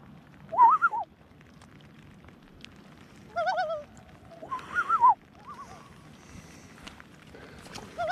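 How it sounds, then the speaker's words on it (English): Common loon on an Alaska lake during stillwater fly fishing, giving several wavering, yodel-like calls in short bursts over quiet water. "So we have a loon here at 12 o'clock."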